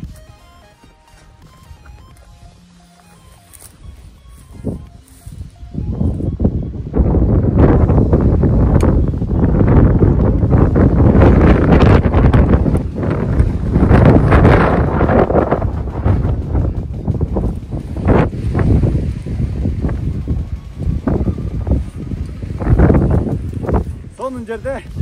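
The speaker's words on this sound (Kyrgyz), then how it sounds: "бул жерде шамал менен жамгыр аралашып, бороон чапкын болуп атат" Strong wind mixed with rain buffets a high mountain summit ridge with snow on it, a loud, continuous roaring gust filling most of the clip after a quieter start, with occasional rustles and bumps.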